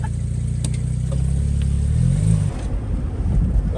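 A BMW 335i convertible pulls away on a drive, its engine note low and rising as it accelerates, then settling into a rougher rumble with some clatter, close and unaccompanied by talk.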